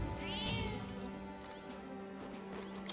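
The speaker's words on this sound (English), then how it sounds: "That's a good kitty." A house cat meows clearly and close by, a drawn-out rising and falling call followed by softer murmurs over steady background game music.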